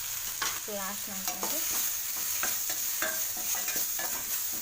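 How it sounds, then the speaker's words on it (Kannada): Tomatoes fry with turmeric in a pan, a steady sizzle broken by close, repeated spatula scrapes and clinks against the metal in an irregular stirring rhythm, with no voices. "ಹಾಗೆ ಫ್ರೈ ಮಾಡ್ಕೊತಾ ಇರಬೇಕು"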